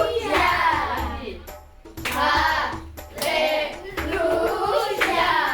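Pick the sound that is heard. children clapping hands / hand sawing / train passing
children clapping hands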